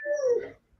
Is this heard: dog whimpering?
yes